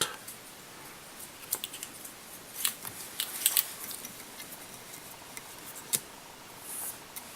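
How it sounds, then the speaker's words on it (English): Small scissors snip tying thread at a fly-tying vise while a green-butt tube fly is tied, a few faint, crisp clicks over a quiet room. "Snip that off."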